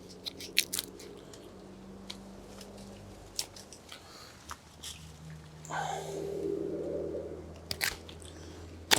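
Cheap survival-kit knife from a budget Harbor Freight kit cutting through material, giving sharp, irregular crunching and snipping bursts with a longer scraping stretch midway, close and fairly quiet.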